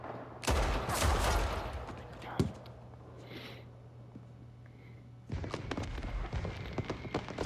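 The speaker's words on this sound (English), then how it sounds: "Hey, fireworks." Loud bursts of fireworks in the video game Saints Row crackle and boom, a sharp bang in the middle, then a quieter lull before another dense round of popping blasts.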